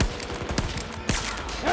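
Dense bursts of gunfire in Battlefield 2042, rapid overlapping shots with two louder sharp reports, steady and close with no voices.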